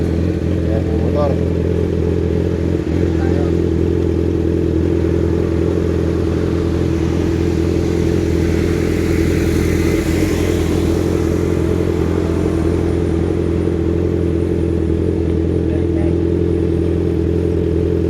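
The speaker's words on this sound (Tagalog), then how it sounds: "Ayan yung motor." A motorcycle engine runs steadily nearby with a loud, continuous low rumble and a constant throb, holding the same pitch throughout with faint voices in the background.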